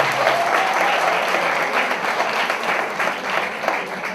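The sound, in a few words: applause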